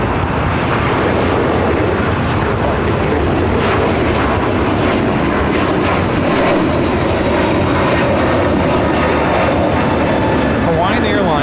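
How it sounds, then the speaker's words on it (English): A Hawaiian Airlines Airbus A321neo takes off from LAX, bound for Lihue, with a steady broad engine roar lasting throughout and people talking over it. "Hawaiian Airlines Flight 63 taking off to Lihue on the A321neo"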